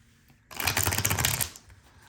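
A deck of cards is shuffled in one brisk riffle lasting about a second, a dense, crisp fluttering burst close by in an otherwise quiet room.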